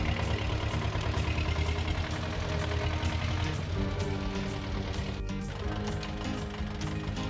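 An old tractor, fifty years in service and still running, idles steadily nearby with a continuous low, rumbling engine note and a rattling mechanical clatter throughout.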